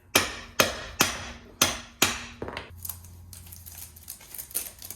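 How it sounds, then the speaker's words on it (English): A plastic dead blow hammer strikes lowrider car parts in six loud, evenly spaced close blows, followed by quieter rattling and clinking. "it is a plastic dead blow, it shouldn't hurt anything"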